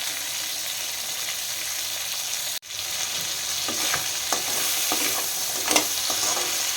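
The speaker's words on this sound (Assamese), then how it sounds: "এতিয়া গেছটো কমাই দি মই অকণমান দেৰি এইখিনি ভাজি থাকিম।" Crab sizzles steadily in a hot pan over lowered gas, with a sharp clack midway and scraping stirs breaking through the constant frying.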